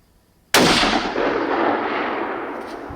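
A single loud rifle shot, fired at a buck during a hunt, cracks sharply and then rolls away in a long, fading echo across open country, with no talking.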